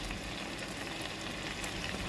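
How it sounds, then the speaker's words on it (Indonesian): Marinated beef for sate maranggi sizzles in a hot nonstick pan, a steady dense frying hiss that runs continuously at close range without speech. "Setelah wajannya benar-benar panas, baru deh masukkan dagingnya."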